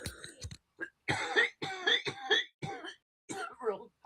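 During a live online election-night broadcast, a woman coughs and clears her throat in several short, rough bursts close to the microphone, mixed in with voiced, speech-like sounds.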